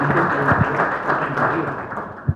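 An audience claps at a book presentation event in Yguazú, a brief, moderate burst of applause mixed with background murmur and a couple of louder thumps.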